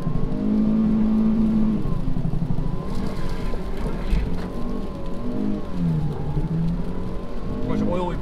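An old car's engine idles and revs while burning oil on a snowy day in St. Stephen, New Brunswick, a continuous rough drone rising and falling in pitch with voices talking over it.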